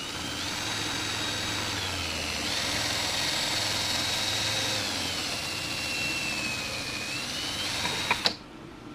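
A wire wheel on a power tool spins against metal with a steady, high whirring grind for several seconds, then winds down to a stop with a couple of faint clicks at the end.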